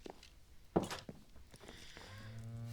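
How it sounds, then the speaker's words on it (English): Cows moo in Minecraft with the ATM 11 modpack, a low drawn-out game moo near the end after a few soft thumps and steps, heard without talk. "More up there, and we have cows."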